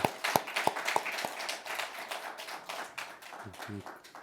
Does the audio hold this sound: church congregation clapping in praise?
yes